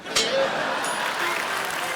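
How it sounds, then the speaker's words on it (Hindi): Studio audience on The Kapil Sharma Show breaks into applause, a dense wash of clapping that swells briefly at the start and then holds steady for a couple of seconds, with voices faintly mixed in. "ठोको ताली।"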